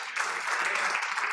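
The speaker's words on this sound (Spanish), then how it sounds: "¿Cuánto le da un aplauso a Dios por eso?" Church congregation applauding, a dense steady wash of many hands clapping that fills the short moment evenly without voices on top.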